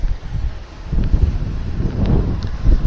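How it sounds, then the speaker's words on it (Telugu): Strong coastal wind at Rameswaram, near a bridge under construction, buffets the microphone in loud, uneven gusts that rise and fall with a low rushing rumble and no other clear sound. "ఇక్కడ చాలా భయంకరమైన గాలి ఉందండి."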